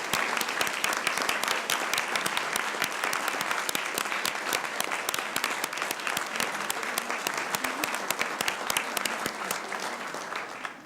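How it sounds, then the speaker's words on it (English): An audience at a city council meeting applauds continuously, a dense, steady round of clapping from a roomful of people that holds for about ten seconds before fading slightly at the end. "Let's give them a round of applause for all they do,"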